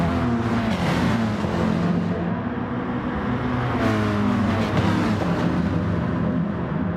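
Ferrari and rival race cars in the GTTCC video game launch off the start at Sainte Croix, a dense, loud roar of several engines revving and accelerating together, steady for the whole stretch.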